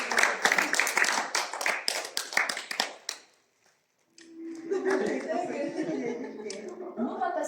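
Clapping breaks out among wedding guests right after the first ring is exchanged, a dense burst of hand claps with a little laughter for about three seconds, then a pause before chatter and voices of the crowd resume.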